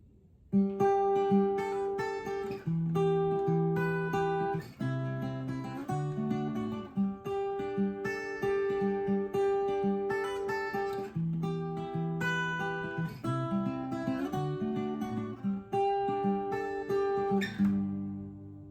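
An acoustic guitar plays the intro of a song, a melodic fingerpicked pattern of plucked notes and bass lines in a steady rhythm, close and clear with no talking.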